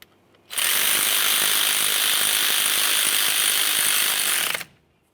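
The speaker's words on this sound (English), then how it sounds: "I'm just going to continue on with a hand ratchet." A tool buzzes steadily for about four seconds while snugging a brake flex hose bolt into the caliper of a 1999-2006 Chevrolet Silverado 1500, the sound starting and stopping abruptly with quiet before and after.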